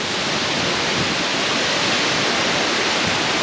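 Steady roaring rush of a waterfall on Babeldaob island in Palau, a dense broadband wash of falling water that stays loud and unbroken throughout with no voices.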